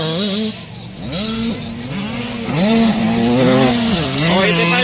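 Several 85cc motocross bikes race together, their small two-stroke engines whining and wailing as they rev up and down through gear changes, layered and continuous over the full stretch.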